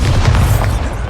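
A fiery Incendio spell blast from the Hogwarts Legacy game, a loud, dense low rumble sustained for about a second with no gaps.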